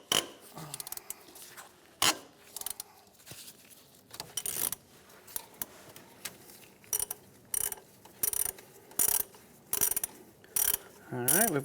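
A ratchet wrench clicks in quick bursts, loosening 12mm bolts on the power steering pump of a 2003-2011 Honda Element during alternator replacement, with rhythmic ratcheting runs and pauses and no speech.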